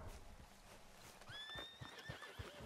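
A horse in the video game Red Dead Redemption 2 gives a rising whinny, accompanied by soft hoof clip-clops, heard at low volume with no talk.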